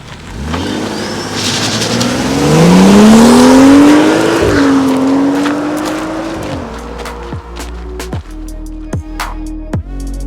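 A BMW 435i F32 with its turbocharged N55 inline six launches hard under launch control, a loud rising engine roar building as it accelerates, then quick gear shifts break the note into clipped revving bursts.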